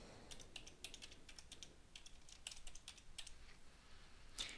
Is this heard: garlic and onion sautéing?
no